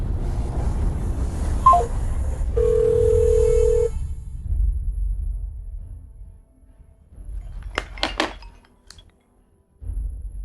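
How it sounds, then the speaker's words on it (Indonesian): Telephone dialing tones sound indoors: a steady beep, then a rapid cluster of short key tones, with thumps and room noise around them and no speech. "Telepon Bay Sinner sekarang"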